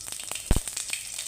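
Cumin seeds dropped into hot oil in a pan while making Mumbai-style vada pav, giving a close, brief crackling sizzle with a couple of sharp pops under a steady frying hiss.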